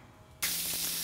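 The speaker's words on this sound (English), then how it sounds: "we are finishing up the chops with bar marks" Sous vide lamb chops hit a hot grill for bar marks, and a sudden loud hiss of searing bursts in partway through, then holds steady after a quiet start.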